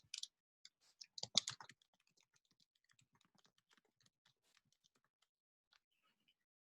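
Someone types an email address on a computer keyboard. A quick burst of key taps comes first, then sparse, soft, close-up clicks trail off across the rest of the moment in otherwise quiet surroundings.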